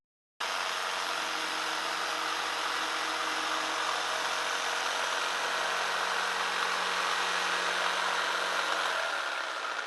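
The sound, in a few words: jigsaw cutting wood test piece without tape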